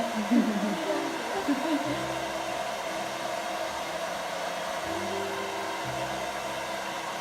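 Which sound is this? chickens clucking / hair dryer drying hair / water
hair dryer drying hair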